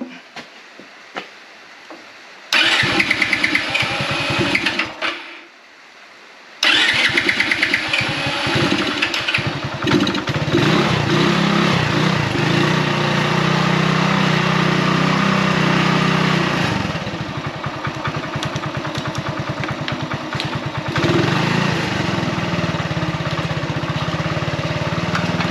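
A car engine cranks and catches after a boost from a Topdon JS2000 jump starter, then settles into a steady, loud idle that runs on without a break.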